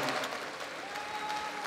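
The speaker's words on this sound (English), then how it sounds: "Once again, a big applause, ladies and gentlemen," A crowd applauds steadily at a boxing fight, a dense patter of clapping hands that holds at an even level throughout.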